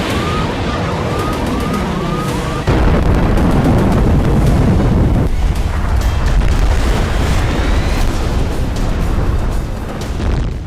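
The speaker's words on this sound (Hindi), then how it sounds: "ऐसा भयंकर धमाका," During fighting in Gaza, a heavy explosion booms loudly and abruptly, followed by a second broadband blast, with a wailing siren rising and falling underneath and continuous dense rumble throughout.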